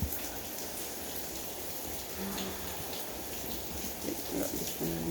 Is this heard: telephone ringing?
no